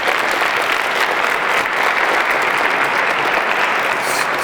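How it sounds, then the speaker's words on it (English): Steady, dense audience applause at a Black History Month closing ceremony, loud and sustained with no gaps, a crowd clapping together throughout. "So let's give them a round of applause as well, too."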